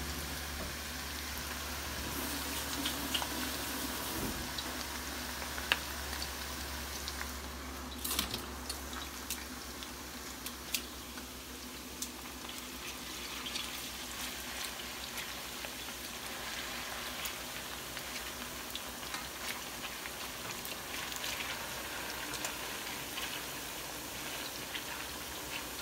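Northern Thai-style pork frying fast in hot oil over high heat, a steady, loud crackling sizzle that runs unbroken throughout with no talking.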